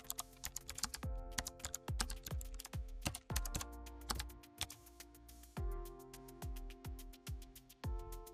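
Fast typing on a computer keyboard as a search is entered, with crisp close key clicks in quick irregular bursts and brief pauses between them.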